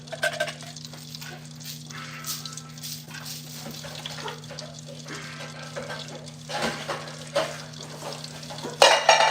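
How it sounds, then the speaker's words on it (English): Pork chop grease heating in a pan, a steady low crackle and hiss close by, with occasional lid and utensil clatter over a continuous background hum. "that grease getting hot"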